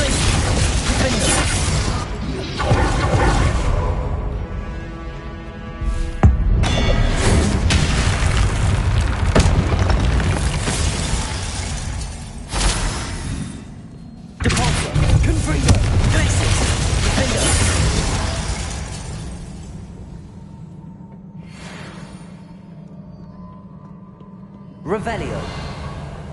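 Spell casting and explosions in Hogwarts Legacy, a loud, dense run of magical blasts, booms and crashes with brief gaps, under game music and effects; a voice speaks throughout.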